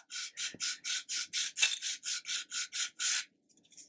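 Coarse-grit Infini soft back sander worked against a part in about a dozen steady, evenly spaced rasping strokes, close and loud, followed by a few faint scrapes.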